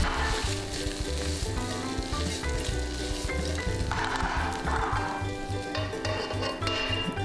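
Shrimp frying in a pan for fried rice, crisping to golden brown, with a loud continuous sizzle and rhythmic rubbing and scraping of a utensil across the pan.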